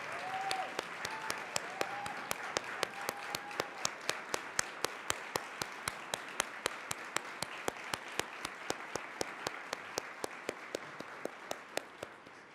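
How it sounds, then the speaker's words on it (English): A room audience applauding nonprofit staff and leaders at an annual gathering, a steady rhythmic clapping sustained evenly for over twelve seconds, fairly distant and moderate in loudness. "I want every nonprofit staffer and leader to stand up and accept the applause of this room."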